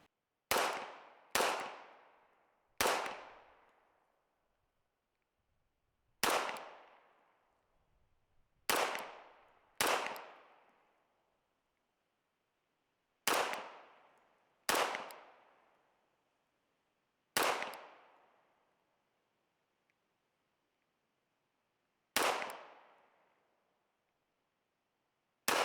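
Loud, sharp shots from an HK Mark 24 .45 pistol at an outdoor range, about ten irregularly spaced rounds, each ringing out and decaying quickly between shots.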